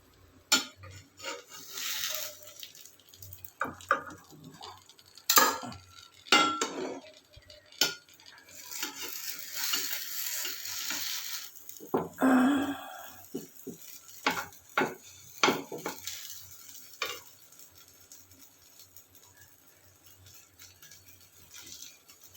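Palm fruit pitha being flipped in a frying pan, with scattered clinks and scrapes of a spatula against the pan and a soft sizzle underneath, quiet and close with pauses between movements.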